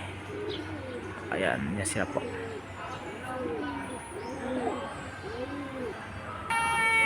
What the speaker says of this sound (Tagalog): Yan po ay ang kalapati